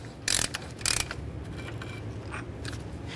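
A ratchet snugs the axle nut on a 2012-2018 Nissan Altima during lower control arm and ball joint replacement, giving two short, close bursts of metallic clicking over a low garage hum.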